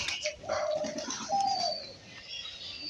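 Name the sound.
pigeons cooing while eating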